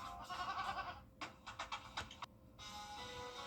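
Goats bleat in a TV ad for an injury law firm, several quick cries in a row at moderate level over a faint background.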